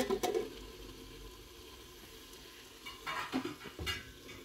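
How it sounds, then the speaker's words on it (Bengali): Haleem stirred in a cooking pot, soft scraping and clinking of a utensil against the pot over a faint sizzle, quiet and close, with a few louder stirring bursts near the start and end. "নেড়ে চেড়ে নিলাম, এখন ঢেকে দিব।"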